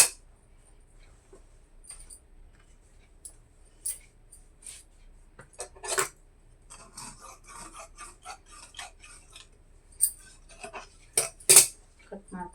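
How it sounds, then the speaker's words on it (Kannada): Scissors cut through the fabric of an old nightie, sounding as scattered snips, rustles and small clinks spread across the stretch, with several louder sharp cuts near the end and no talking. "ಇವಾಗ ಹಿಂದೆದನ್ನ ಈ ಥರ ಕಟ್ ಮಾಡ್ಕೊಂಡ್ಬಿಟ್ಟು"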